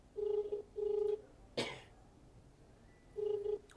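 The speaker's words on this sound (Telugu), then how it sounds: "ఫోన్ రింగ్ అవుతుంది." Outgoing phone call ringback tone, three short steady beeps in a regular pattern with a clatter between them, heard faintly over a quiet line.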